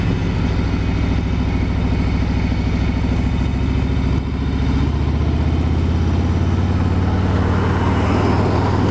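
A 2018 Harley-Davidson Road Glide Ultra motorcycle engine rumbles on a test ride, a steady deep throb that rises as the bike pulls away and accelerates, heard with road and wind noise.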